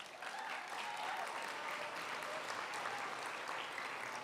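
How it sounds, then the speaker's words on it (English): Audience applause for student poets at a school spoken word event for grades 9 and 10, a steady dense clapping that fills the whole stretch at moderate loudness with no voices over it. "Let's give a final round of applause for all our poets."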